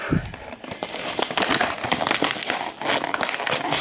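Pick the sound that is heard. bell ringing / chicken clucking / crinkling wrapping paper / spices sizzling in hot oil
crinkling wrapping paper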